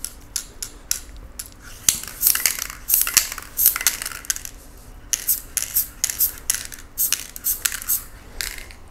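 Spray paint hisses from a can in short, sharp bursts, aimed at an angle onto a cactus painting, with small clicks and rattles between the sprays and no talking.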